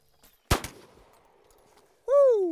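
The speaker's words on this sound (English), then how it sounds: "Let's shoot this once up close here and see what kind of pattern we get." A single close shotgun blast fired at a paper target, a sharp loud report with a quick echo, then a decaying tail; a loud tonal whine with falling pitch follows near the end.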